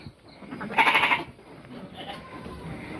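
A sheep lets out a short, nasal bleat, with quieter animal calls and light background noise following.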